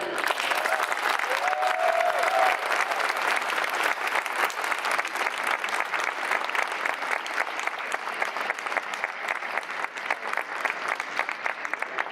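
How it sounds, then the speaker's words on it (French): Warm applause from an audience honouring the 2017 Visez Droit public-category award recipient, a dense, steady wash of many hands clapping for about twelve seconds, loud and continuous with no talk over it. "je vous demande d'applaudir chaleureusement la récipiendaire du prix Visée droit 2017 volet public"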